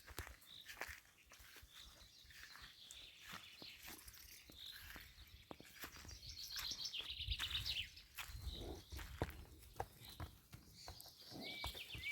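A mare's hooves clop unevenly at a slow walk on soft fallow ground, fairly close, while birds chirp in the background and faint voices occasionally murmur.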